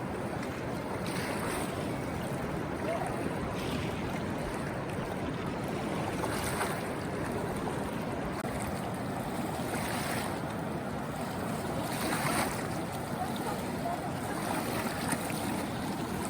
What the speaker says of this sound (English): it's like there's many waves coming up to the sand